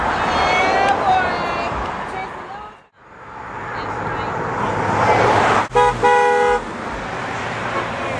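Car horns honk on a busy street amid steady road traffic, with a loud repeated toot near the end and voices talking over the passing vehicles.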